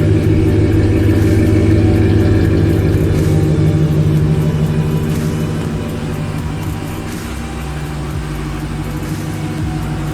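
A deep, rumbling 5.7 Hemi V8 in a Ram 1500 truck with a K&N intake and full aftermarket exhaust runs steadily with a throaty exhaust note, loud and close, easing slightly in volume midway through.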